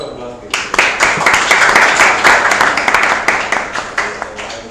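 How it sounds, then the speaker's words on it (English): An audience at a spatial-technology talk on drones and LIDAR breaks into a round of clapping that starts abruptly, then holds as a loud, close patter of hands with sharp individual claps standing out. "That is a round of applause, please."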